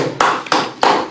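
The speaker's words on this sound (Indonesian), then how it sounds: "Tepuk tangan" An audience at an Islamic religious gathering about charity claps in three quick bursts, the claps close and fairly loud, with no talking.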